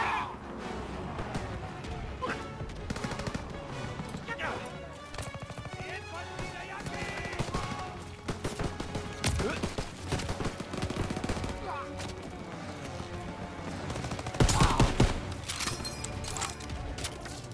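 Gunfire in the World War II shooter Call of Duty WWII, steady volleys of rifle and machine-gun shots cracking throughout a noisy battle, with one especially loud burst late on.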